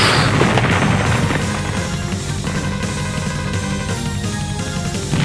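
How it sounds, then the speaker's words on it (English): Dense, continuous booming blasts and crashing impacts from a Mega Man video game, layered over a steady rumble, loud and chaotic throughout with no pause. "Explosions, dialogue, explosions and dialogue at the same time."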